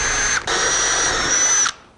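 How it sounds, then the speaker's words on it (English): A power drill whines steadily as it bores a hole near the corner of a workpiece, close and loud, with a brief dip in pitch partway through before the motor winds down at the end; no voices. "my recommendation is to drill a hole right in each corner"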